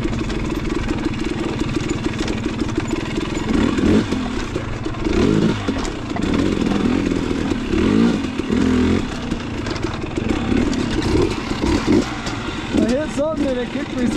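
A KTM dirt bike engine revs and idles close by on a rough off-road trail, its uneven throttle bursts rising and falling over steady mechanical rumble, with a voice speaking over it and a brief sharp rev near the end.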